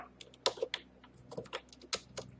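Quick, close clicks of keys on a computer keyboard, a short irregular burst of typing with no voices.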